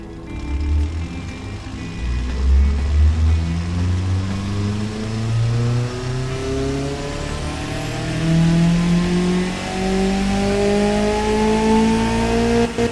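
A video game car's 1978 1500cc, 200-horsepower engine revs and accelerates steadily, its pitch climbing through gear after gear, loud and close with no talking.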